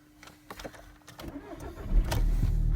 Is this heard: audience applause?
no